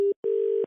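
Telephone tones after a call is hung up: a short electronic beep, a brief gap, then a longer steady beep, clean and close with nothing else around it.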